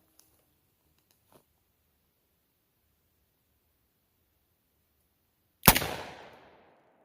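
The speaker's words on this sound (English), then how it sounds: "I'm going to do 7 shots now in the double action and just see how I do" A single sharp, loud revolver shot from a Smith & Wesson 686 Plus fired double action cracks near the end and rings off quickly, preceded by a few faint clicks and near silence.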